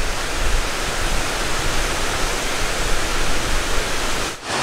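A small waterfall spills over a river dam, producing a close, constant hiss and rush of falling water with no voices, steady from start to finish.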